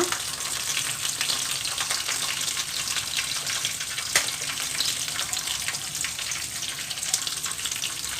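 Curry ingredients frying in a pan give a steady, close sizzle and crackle that runs the whole time, with a faint clink near the middle.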